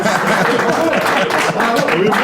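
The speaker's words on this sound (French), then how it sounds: "Vous applaudissez." A television studio audience applauds in a loud, steady wash of clapping that fills the whole moment, with voices mixed faintly into the clapping.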